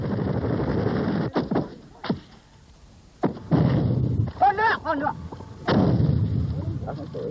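Artillery bombardment from Vietnam War footage pounding enemy firing positions: a series of heavy, booming blasts at irregular intervals, some close together, with a brief voice heard between them.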